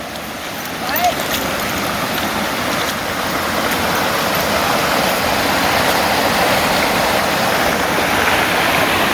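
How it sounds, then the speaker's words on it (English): Heavy rainstorm runoff rushing through a gully in a downpour, a loud, dense, steady roar of flowing water that stays close and constant throughout. "So this is what you call a gully washer."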